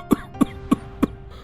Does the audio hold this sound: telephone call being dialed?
no